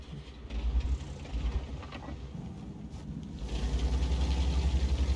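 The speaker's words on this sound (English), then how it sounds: "An E75 wouldn't be an E75 without that growl of an engine." A video game E75 tank's engine growl rumbles steadily, swelling louder toward the end, with some faint mechanical clatter in between.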